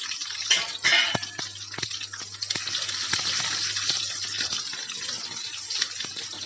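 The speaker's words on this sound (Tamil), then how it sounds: "இப்போது வெங்காயம், பூண்டு, பச்சை மிளகாய் போட்டுடலாம்." Onion, garlic and green chilli drop into hot oil where fennel seeds have already crackled, for a fish gravy: a steady, close sizzle with scattered sharp pops and crackles, louder at first and then settling.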